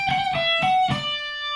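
Clean-toned electric guitar lick from a guitar solo, high notes played alone on the first and second strings, four quick picked attacks ending in a sustained ringing note.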